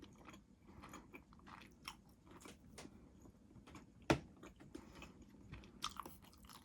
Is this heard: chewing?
yes